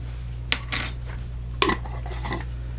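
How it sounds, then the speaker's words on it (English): A metal teaspoon clinks against a container while yeast is measured out for homemade bread, giving a few sharp separate taps close by over a low steady hum. "So you need a teaspoon and a half of the yeast."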